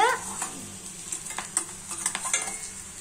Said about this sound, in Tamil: இப்போ வந்து நம்ம நல்லா மிக்ஸ் பண்ணிட்டு இருக்கேன்